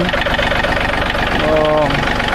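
A John Deere 3032E compact tractor with a 32-horsepower engine and hydrostatic four-wheel drive idles loudly and close by, a steady rumble with a faint knock, while a voice briefly sounds over it.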